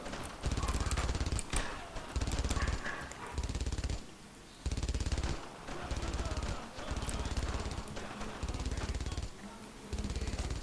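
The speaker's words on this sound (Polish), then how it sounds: "mamy do czynienia po raz pierwszy z gniazdem karabinu maszynowego MG42" Bursts of MG42 machine gun fire from a nest in the World War II shooter Brothers in Arms: Road to Hill 30, loud sustained ripping volleys broken by short pauses, repeated about seven times.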